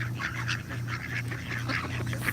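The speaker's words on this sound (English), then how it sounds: "We got ducks right out of the gate. A lot of them, being very noisy." A crowd of noisy ducks calling together at a protest, a continuous dense chatter of quacks and honks from several birds, fairly near and steady throughout, with no talk over it.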